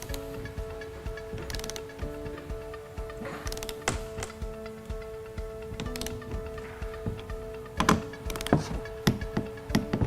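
Torque wrench clicking repeatedly while tightening bolts on a TITAN aft axle diesel tank install, set to 20 foot-pounds, sharp ticks and clicks recurring irregularly over a steady background hum, with louder clicks toward the end.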